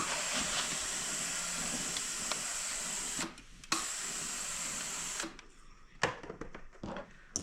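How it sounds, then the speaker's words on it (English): A steam iron hisses in long, steady bursts while pressing seams on a beginner sampler quilt block, the broadband steam dropping out briefly, then quieter handling and clicks toward the end. "Let's iron it."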